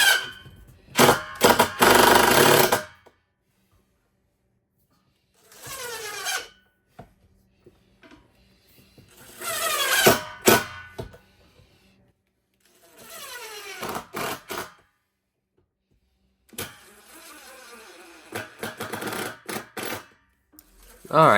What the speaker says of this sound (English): I won't bore you by making you watch me screw all of these